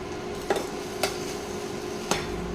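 Grated coconut and tomato being sautéed in a pan for a bottle gourd kofta curry hiss softly, broken by three distinct scraping clinks of a spatula against the pan.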